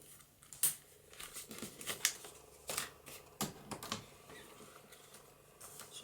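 Scissors cutting paper for a papercraft journal folio, a series of crisp, close snips and rustles in irregular bursts, fairly quiet and with no one talking.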